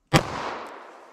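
A single sharp crack from a .22 Magnum revolver loaded with Hornady Critical Defense ammunition, fired once and close, followed by a short fading echo.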